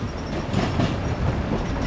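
A Norfolk Southern local freight train rolls past in Marion, Ohio, a loud steady rumble of wheels and cars with faint clickety-clack, heard alone throughout.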